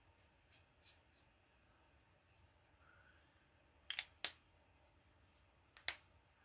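Chisel-nib marker swatching art supplies makes faint, soft scratches and a few sharper taps against a quiet room background.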